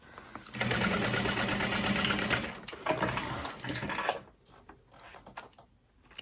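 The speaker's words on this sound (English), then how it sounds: "you're just gonna sew next to that stabilizer, but not through it" A sewing machine stitches a Trailblazer backpack in a steady run of about three and a half seconds, pauses briefly, then gives a short final burst before trailing off into quiet clicks.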